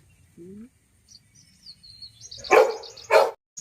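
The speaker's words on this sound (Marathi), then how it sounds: "गोल्डन जोर ओरडणार" Two loud, close dog barks in quick succession from a golden-coloured dog chasing birds on a farm, after a few soft bird chirps and quiet background noise.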